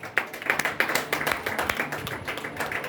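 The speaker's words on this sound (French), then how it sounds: "Acclamez Jésus pour votre moment." Congregation applauding for Jesus at a church service, a steady patter of many hands clapping at moderate distance with scattered louder claps, no talk over it.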